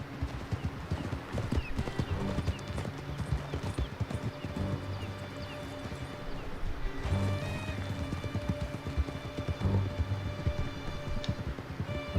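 Horse hooves clip-clopping at a steady gallop while riding in Red Dead Redemption 2, a continuous rhythmic drumming under game music, with brief whinnies and no speech over it.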